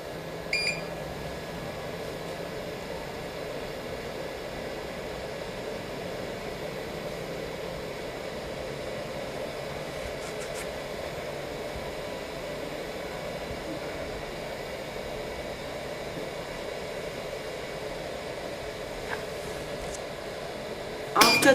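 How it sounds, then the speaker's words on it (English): A 3D sublimation printer's vacuum runs in a steady, even hiss and hum for a long stretch, holding the same level throughout, ending with a brief louder click. "Cover the machine and press vacuum."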